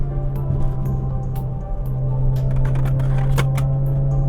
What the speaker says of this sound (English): That was the phone holder.